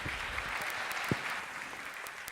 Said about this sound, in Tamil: ஒவ்வொன்றும் சொல்ல சொல்ல கைத்தட்டணும்